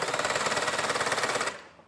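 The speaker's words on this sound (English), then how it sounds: "I'm going to use a drill to spin my PTO shaft just to simulate how that would be on a tractor" A power drill spins a tractor PTO shaft on a demonstration simulator, giving a steady rapid rattling whir that runs for about a second and a half, then abruptly cuts off and winds down to quiet.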